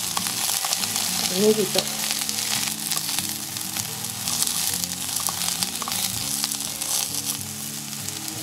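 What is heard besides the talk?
mochi rice cakes frying in a pan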